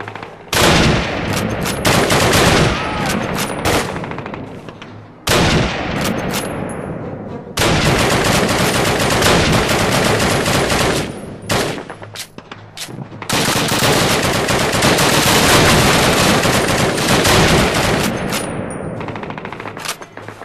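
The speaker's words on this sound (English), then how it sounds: "I'll provide support with the Bren gun" Bren gun machine gun fire in a Call of Duty game, loud sustained bursts of rapid automatic shots separated by short pauses, close and dominant throughout.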